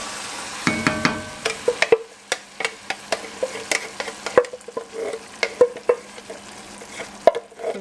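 Crushed tomatoes go into a pot of chuckwagon chili, giving a soft sizzle with a series of sharp scraping and clinking stirring knocks spread through the clip, and no talk.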